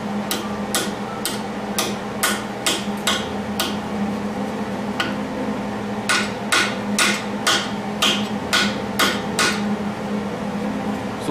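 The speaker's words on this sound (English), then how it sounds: "Take an old stick welding slag hammer and I just kind of ping it down to" A stick welding slag hammer pings metal down while welding the front beam of a VW Bus, a rapid run of sharp, ringing taps, a pause, then a second burst, close and loud over a steady workshop hum.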